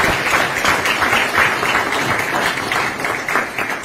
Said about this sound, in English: a round of applause to thank President Ruto